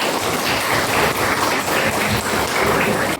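Classroom applause for a student named Arya after a traffic light project, a busy, crackling patter of many hands clapping at a steady level throughout, with no speech.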